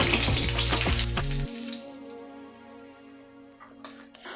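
Eggplant masala bajji fries in hot oil on a medium flame, a loud, dense sizzle with a few stirring scrapes that suddenly drops away, leaving faint crackling and a couple of light knocks.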